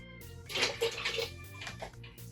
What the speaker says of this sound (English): And room temperature water.